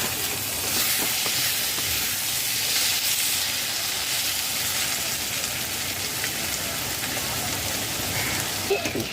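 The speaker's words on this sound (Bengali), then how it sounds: "জল দিয়ে কিছুক্ষণ ফুটিয়ে নেব" Chicken simmering in boiling water in a pan for a chicken bharta, a steady close bubbling hiss and sizzle running unbroken throughout with no talk over it.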